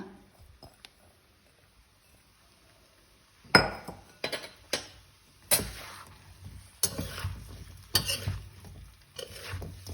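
Carrot, cauliflower and turnip pieces stir-frying with spices in a pan for winter pickle: after a quiet start, a burst of sizzling with repeated clinks and scrapes of a spoon against the pan, moderately close.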